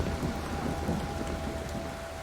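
Steady rain pours in the Kraven Manor horror game, a dense unbroken hiss with low rumbling like distant thunder, alone with no voices.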